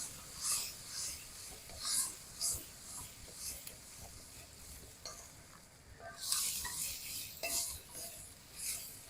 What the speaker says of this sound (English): Now, stirring pretty regularly